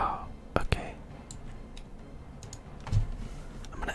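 Soft taps and clicks of a computer keyboard being typed on while playing Final Fantasy XIV, scattered and close, with a few sharper key clicks and quiet whispering beneath.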